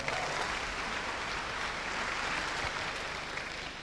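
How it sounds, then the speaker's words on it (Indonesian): A seated audience claps steadily for a mentor being honored at a gathering, a dense, sustained wash of applause with no pauses and no talking. "Berikan aplaus yang tulus pada upline saya langsung"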